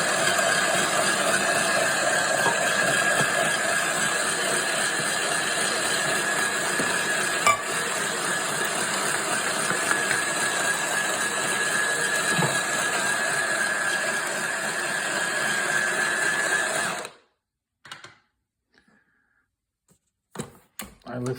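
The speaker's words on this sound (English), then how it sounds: "So there's the coffee beans already loaded. I turn it on. I press grind." A coffee maker grinding coffee beans: a loud, steady whirring drone that runs unbroken for about seventeen seconds, then cuts off, leaving a few faint clicks and rustles.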